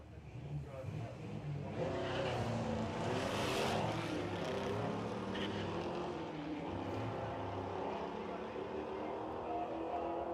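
Drag racing cars, a Mazda MX-5 and a Ford, launch and accelerate hard down the strip at the STP Sportsman Nationals, engines roaring loudly and steadily across the run with a commentator talking over the noise.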